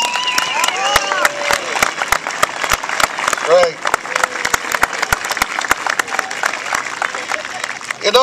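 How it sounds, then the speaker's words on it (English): A crowd at a Little League gathering gives the mothers a round of applause, loud close clapping with scattered cheers and voices, a speaker briefly talking over it partway through. "everybody in this place should give the mothers a nice round of applause"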